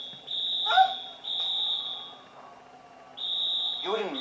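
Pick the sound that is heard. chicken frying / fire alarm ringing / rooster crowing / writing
fire alarm ringing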